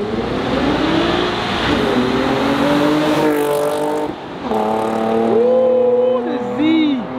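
A Nissan and a Mercedes-Benz rev their engines during a street racing takeover, loud rising and falling engine whines close by, with people talking and shouting over them.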